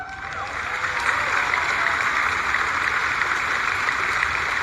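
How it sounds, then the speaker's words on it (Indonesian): Loud, dense applause from a large crowd at a political party gathering, greeting the two party chairmen; a continuous roar of many hands clapping that holds steady throughout, with cheering voices mixed in. "saya pengen minta tepuk tangan yang paling meriah kepada dua ketua umum kita"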